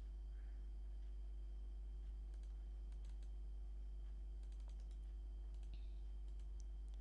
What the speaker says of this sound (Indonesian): bisa kita ketik manual